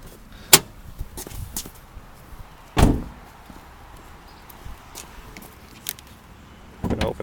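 A car's trunk being opened, with a few sharp clunks and latch thumps spaced apart, one heavier knock in the middle and a short rattling burst at the end, close and fairly loud against quiet background.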